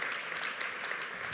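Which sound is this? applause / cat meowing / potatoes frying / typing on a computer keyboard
applause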